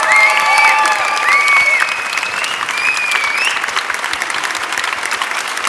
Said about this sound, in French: je vous invite donc à applaudir notre capitaine et à faire une standing ovation